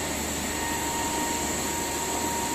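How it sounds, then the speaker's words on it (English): A DC motor spins up a salient-pole alternator on a laboratory test bench, giving a steady, loud, unbroken mechanical hum with a high whine riding on top. "DC motor has started and it is now rotating the alternator"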